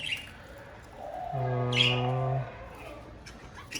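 Cockatiels chirp softly, then one gives a longer harmonic call mid-way, with scattered faint tweets around it in a quiet space.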